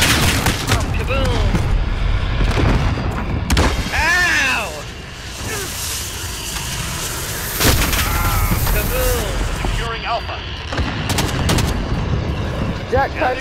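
Explosions and gunfire in the video game Call of Duty Modern Warfare, loud continuous battle with booming blasts and rapid shots, and voices talking over it.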